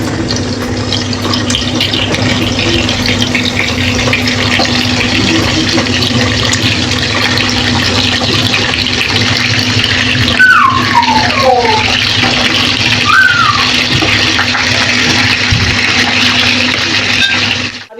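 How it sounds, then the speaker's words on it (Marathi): Brinjals slipped into hot oil for a village-style dried-fish stuffed eggplant dish sizzle with a steady, loud frying hiss that runs through the whole stretch, with a few brief utensil scrapes midway. "तेल आता तापत आले आपण वांगी आज सोडून देऊया"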